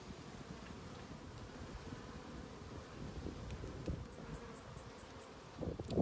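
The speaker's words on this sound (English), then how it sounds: "Good example of how the bees construct their new comb" Honey bees building new comb inside a hive make a dense, continuous buzzing hum close by, steady throughout with a few brief higher tones near the end.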